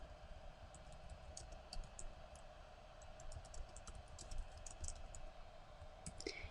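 Quick, irregular clicks of typing on a computer keyboard as a question is entered into a Google Slides activity, soft and close over a steady low hum, with no speech.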